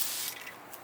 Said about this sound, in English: yeah, that does a good mist.